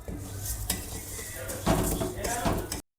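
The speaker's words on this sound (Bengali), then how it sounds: "এই তেলের মধ্যে মুগ ডালটা ভেজে নিব।" Mung dal frying in hot oil in a pan, with close stirring, scraping and metal utensil clinks over a low sizzle that grows louder partway through.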